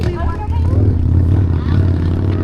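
A motorcycle engine rumbles past in a quiet outdoor area, a loud, sustained low drone with revving, heard under a voice chattering.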